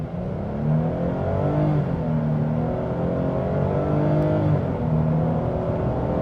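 A 2025 Nissan Frontier Pro-4X pickup launches off the line in two-wheel drive, engine droning and rising in pitch through successive climbs, heard from inside the cab.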